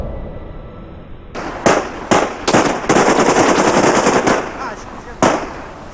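Gunfire from the execution of Romanian dictator Nicolae Ceaușescu sounds as rapid, loud bursts of shots. A sustained automatic volley is broken by separate sharp cracks and stops after a final isolated shot.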